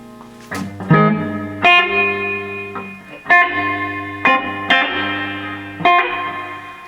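An electric guitar played through a Fender Blues Deluxe III amp with reverb: strummed chords ring out roughly every second, each with a sharp attack and a lingering reverberant tail, loud and close with no talking.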